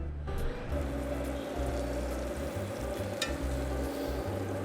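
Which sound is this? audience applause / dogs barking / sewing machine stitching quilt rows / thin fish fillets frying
thin fish fillets frying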